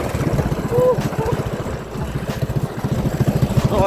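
Small mini bike engine revving on dirt trails outdoors, a close, throbbing motor drone that rises and pulses through the whole stretch with wind buffeting the microphone.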